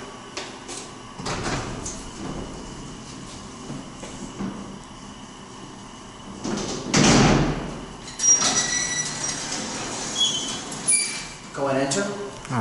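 Heavy gated freight elevator doors at a UT Austin building are worked by hand and slid open, giving rumbling rolls and a loud clank partway through, with short exchanges of talk and footsteps around them.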